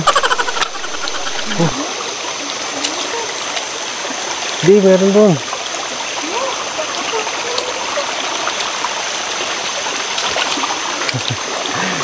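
A river stream rushes and babbles continuously, with a brief voice and occasional short vocal sounds over the steady noise, at a resort in Baler.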